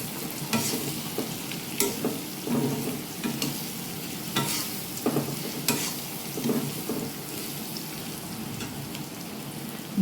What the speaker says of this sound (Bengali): ভালো করে ভেজে উঠিয়ে রাখবো।